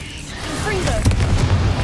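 A Bombarda blasting spell in Hogwarts Legacy lands with a deep, rumbling boom partway through, a low blast that swells and lingers over steady game ambience.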